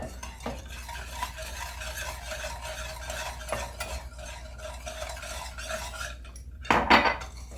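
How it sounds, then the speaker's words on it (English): A utensil stirring whole milk into a Black Forest pie filling in a pan, with continuous scraping and swishing and a louder clink of metal near the end. "I'm just going to mix this to combine"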